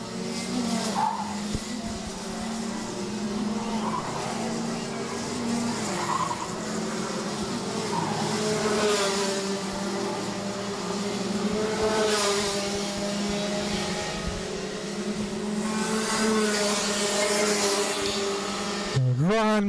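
Rotax Max racing karts buzz around the track at a national karting championship, a steady high-revving engine drone with rising and falling passes, under continuous commentary.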